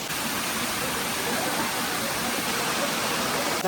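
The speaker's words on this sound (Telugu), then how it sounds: "ఫైనల్గా వాటర్ ఫాల్స్ దగ్గరికి అయితే వచ్చేసాం అనమాట" A waterfall at Araku roars in a constant, broad rush of falling water, loud and close, with no voices.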